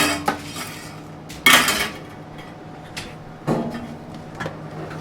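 A knife cuts food in a kitchen while preparing shakshuka, with a few sharp, irregular knocks and clacks against a board or dish, close but sparse between quieter moments.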